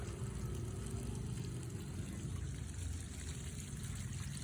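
Cooked spaghetti being rinsed under running tap water while draining, a steady close gush and trickle of water over the pasta throughout, with no talking.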